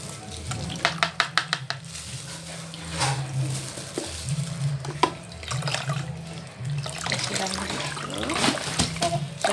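Kefir grains being rinsed under running water give a steady trickle and splash with a few sharp clinks at the start, while someone talks over it now and then.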